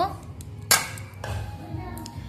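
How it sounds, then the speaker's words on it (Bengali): Fried rice being mixed in a pan with a utensil: a sharp metallic clink followed by softer scraping and stirring, with a voice speaking over the mixing. "এবার এটাকে ভালো করে মিশিয়ে নেব আমরা রাইসটার সঙ্গে"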